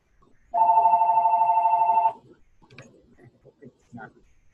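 A telephone rings once in a long, buzzing, rapidly pulsing electronic trill lasting about a second and a half, then stops, leaving faint scattered room noises and soft clicks.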